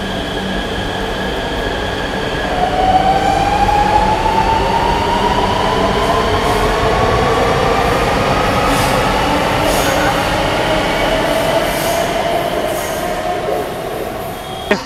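Namo Bharat rapid rail train at Muradnagar station, a steady loud rumble of the train throughout with a rising motor whine and faint wheel squeal, close by.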